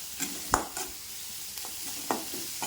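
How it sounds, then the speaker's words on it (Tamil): Onions sauté in a pan with a soft, steady sizzle, broken by a few sharp scrapes and taps of a spatula stirring them, close by with no talking. "வெங்காயம் வதங்கிட்டு இருக்குது, வதங்கட்டும்."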